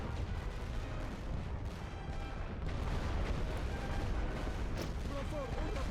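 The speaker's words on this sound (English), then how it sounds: "Enemy artillery still." Enemy artillery barrage in The Great War: Western Front, a World War I strategy game, with dense continuous rumbling booms and crackling impacts layered under battlefield din and voices throughout.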